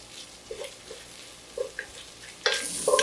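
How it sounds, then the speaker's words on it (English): Onions, garlic and meat stirred together in a pot, soft scraping and sizzling with light knocks of the spoon, growing louder and busier toward the end. "now I'm just gonna mix it all up. The onions, the garlic, and the meat all together at once now"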